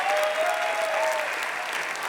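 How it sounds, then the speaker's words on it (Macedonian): An audience at a stand-up comedy evening for March 8 breaks into a full, steady burst of applause, many hands clapping at once close by. "Ве молам уште еден аплауз."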